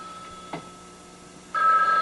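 A telephone in a home on a private line starts ringing sharply partway through, after a quiet stretch with a faint click, the electronic ring tone steady and close.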